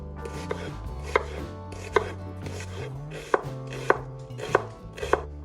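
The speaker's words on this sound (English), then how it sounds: "Start this easy recipe by chopping the onions" A knife chopping onions on a cutting board, sharp distinct knocks landing in an irregular rhythm, close up over a low steady background hum.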